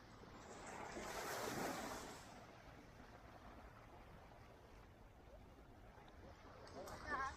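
Surf washes steadily at Karon Beach in Phuket, Thailand, swelling louder early then settling into a continuous roar, with wind buffeting the microphone throughout.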